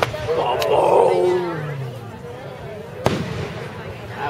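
Fireworks burst during a Richmond display, one heavy boom rumbling out early and a sharp crack a few seconds later, with onlookers murmuring in the background.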